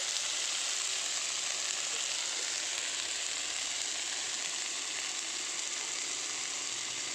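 Onions fry in oil in a kadai at an outdoor winter family picnic, an unbroken bright sizzle holding steady and close throughout, with no stirring or talk breaking through.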